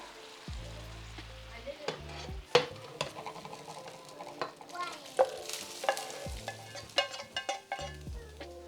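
Beef and udon noodles are tossed in a pot, producing repeated stirring scrapes, soft sizzling and intermittent utensil knocks, close and moderately loud.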